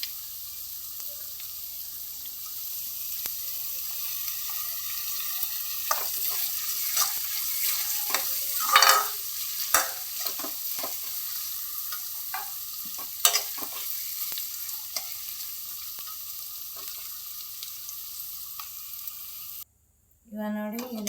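Onion, garlic, green chili and curry leaves sizzle in a pan and are stirred repeatedly, with a continuous frying hiss and scattered scraping and clinking sounds building in the middle.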